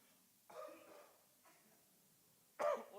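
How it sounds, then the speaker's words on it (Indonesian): A few short coughs, spaced apart and fairly faint, in an otherwise quiet room; the last one is sharper and louder. "Lama-lama kita satu gereja batuk"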